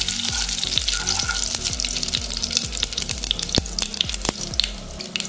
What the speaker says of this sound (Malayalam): ഇഞ്ചി കറിവേപ്പില ഇട്ട് കൊടുത്ത് ഒന്ന് ഇളക്കി കൊടുക്കാം